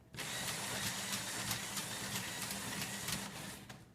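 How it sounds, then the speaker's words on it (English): An invisible lift mechanism runs with a steady mechanical whir and faint regular clicking, constant and fairly quiet from start to finish, with no speech over it. "if we run the machine right now, just to see how those will function"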